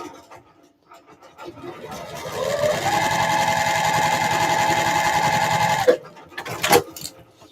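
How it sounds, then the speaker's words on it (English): A Brother sewing machine joins fabric in one steady run of about three seconds, rising to a close, even whir and then stopping, followed by faint handling noises. "So all I'm doing is about to sew this together."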